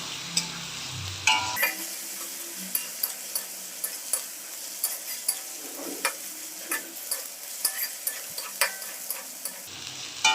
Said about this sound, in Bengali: এবার এটাকে ভালো করে ভেজে নেবো কাঁচা গন্ধা না যাওয়া পর্যন্ত